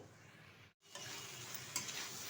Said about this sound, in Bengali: তো ভালোভাবে কষিয়ে নেব বেশ কিছুক্ষণ সময় ধরে